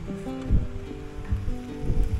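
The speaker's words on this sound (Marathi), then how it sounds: "आता पाऊस आला" Rain begins falling outdoors at a hilltop viewpoint, Panorama Point in Matheran, a steady broadband patter with a few heavier low thumps of drops or gusts, fairly close and without talk.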